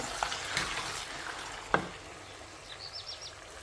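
Meat with black pepper, salt and spices gets stirred in a pan, giving a soft sizzle with a few scraping clacks of the utensil, close and fairly quiet, along with faint chirps in the background.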